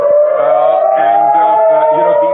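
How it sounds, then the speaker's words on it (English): A loud, steady air raid siren wails continuously in Tel Aviv, its sustained droning tone slowly wavering in pitch and filling the whole stretch. "as I speak, you can hear the air raid sirens going in"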